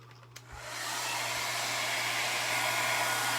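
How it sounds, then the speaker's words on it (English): A hair dryer switches on after a brief click, then blows steadily with a loud, constant whooshing roar close by. "grab my hair dryer and dry it really quick"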